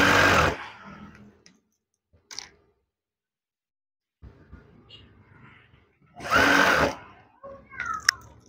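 A sewing machine stitches curtain fabric in two short, loud buzzing bursts, one at the start and one near the end, separated by near silence and a few faint handling clicks.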